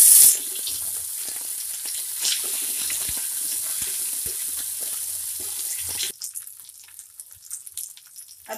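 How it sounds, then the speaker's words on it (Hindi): Ginger paste frying with garlic in a pan for Punjabi chole masala, a loud continuous hissing sizzle that holds steady for about six seconds, then drops to a much fainter crackle. "अब हम इसमें अदरक की पेस्ट ऐड कर देंगे, इसको भी अच्छी तरह से फ्राई करेंगे"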